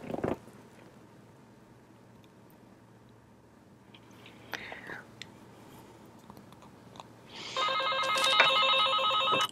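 A telephone rings loudly with a bright, repeating electronic tone near the end, following a quiet stretch with soft murmuring and faint mouth sounds.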